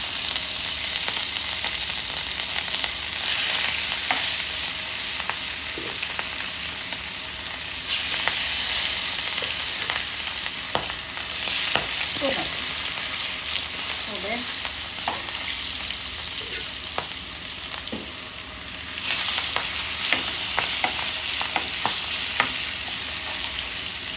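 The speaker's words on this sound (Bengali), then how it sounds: "পাঁচ ছয় টুকরা রুই মাছ, হলুদ মরিচ লবণ দিয়ে দিলাম ভাজার জন্য।" Five or six rohu fish pieces coated in turmeric, chili and salt fry in hot oil with a continuous loud sizzle, swelling in waves, punctuated by occasional pops and light spatula scrapes.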